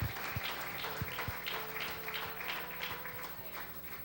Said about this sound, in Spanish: ¿Cuántos aplauden el nombre poderoso de Yeshua?